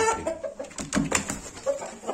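A rooster clucks up close in a string of short, throaty bursts with brief pauses, the calls uneven and fairly loud.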